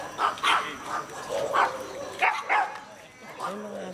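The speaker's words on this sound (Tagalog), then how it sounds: "Ay, mga aso natin." Several short dog barks and yips come in bursts, with people talking nearby between and over them.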